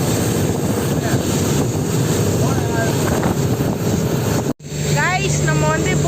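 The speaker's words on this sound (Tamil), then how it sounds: "நம்ம வந்து போட்டில் போயிட்டுருக்கோம்." A boat cruising on the sea off Thailand, a steady loud engine drone with heavy wind rumble against the microphone, a brief dropout near the end, and voices talking faintly over the noise.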